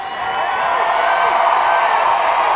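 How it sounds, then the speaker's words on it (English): A packed indoor arena crowd at a Utica City FC versus Milwaukee Wave professional indoor soccer playoff game roars and cheers in a continuous loud wall of sound. "The crowd with a roar that would no doubt not only be heard in this building"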